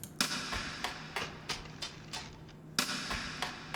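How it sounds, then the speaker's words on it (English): Rim shot drum sample drenched in heavy reverb with the compressor switched off, struck as a run of sharp, crisp cracks in a loose rhythm, each tail ringing out before the next hit. "And the rim shot has a lot of reverb in it."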